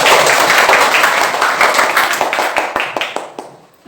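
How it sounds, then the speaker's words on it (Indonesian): Fourth-grade pupils in a classroom clap their hands, starting as a dense burst and thinning into scattered individual claps that fade out near the end. "Tepuk tangan dulu untuk kalian hari ini"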